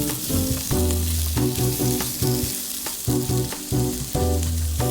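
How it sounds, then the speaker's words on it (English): Sliced sausage sautéing in a pan for creamy garlic ravioli, a loud close sizzle over a rhythmic pattern of repeated tonal pulses, with no voices. "Saute for a minute. Add 7 ounces of sliced sausage."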